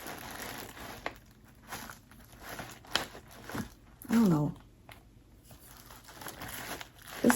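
Paper crinkles and rustles in uneven, close bursts as a Father's Day gift basket is filled, with a person speaking briefly over the handling.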